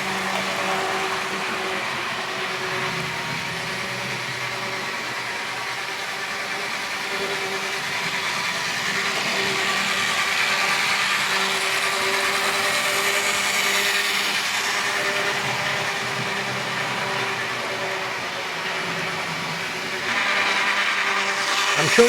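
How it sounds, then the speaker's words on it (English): An N2 model train locomotive with a mainline motor runs continuously, giving off a buzzy, whining drone with steady tonal hum that holds at a fairly even level for over twenty seconds and rises slightly near the end. "the motor in the N2, the mainline motor being sort of like a buzzy, you know, whining type noise"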